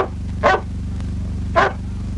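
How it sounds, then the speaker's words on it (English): A dog barks twice outdoors after rain in a 1938 film, two short mid-pitched barks about a second apart heard at a moderate distance over a steady low hum. "That's no wolf, it's a dog."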